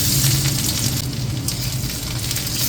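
Chopped garlic frying in hot oil in a kadai, cooked for chicken chowmein, giving a steady, close, continuous sizzle that holds at an even level throughout with no talking.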